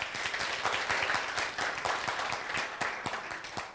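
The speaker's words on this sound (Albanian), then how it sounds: "do të prisni një duartrokitje të fortë nga ju" An audience at a concert applauds a teacher with dense, continuous clapping lasting several seconds at moderate volume, with no speech over it.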